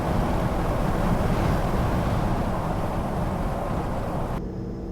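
Wind rush and road roar from mud-terrain tyres with a window open, a steady loud broadband drone throughout at about 93.5, easing slightly near the end.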